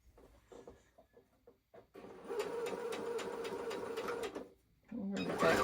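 A sewing machine stitches a quilt block in one steady burst of a few seconds, close and fairly quiet, with a short restart after a pause and a voice talking softly beforehand.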